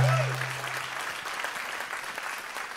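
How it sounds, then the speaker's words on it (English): Steady, moderately loud applause from an audience at a community event celebrating an anthology book, a continuous wash of clapping that starts over a brief tone and fades slightly as it goes on. "So give us a round of applause"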